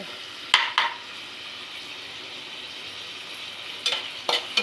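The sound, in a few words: carrots and tomatoes frying in oil, stirred in pan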